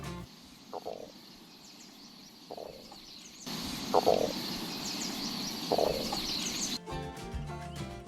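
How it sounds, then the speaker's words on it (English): Hungry stomach growls from a character in the video game A Township Tale, four short low gurgling rumbles spaced a second or two apart over quiet ambient game background, with no talking. "If your hunger bar will drop low, you will hear a specific sound from your stomach"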